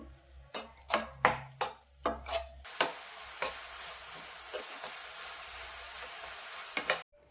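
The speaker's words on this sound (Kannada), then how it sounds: "ನಂತರ ಹುಣಸೆ ರಸನ ಹಾಕ್ಕೋತಾ ಇದ್ದೀನಿ ಈಗ ಇದನ್ನು ಚೆನ್ನಾಗಿ ಮಿಕ್ಸ್ ಮಾಡಬೇಕು" Spoon stirring tamarind juice into a girmit puffed-rice mixture in a bowl, a run of quick rhythmic scraping strokes up close, then softer scattered taps over a low hiss.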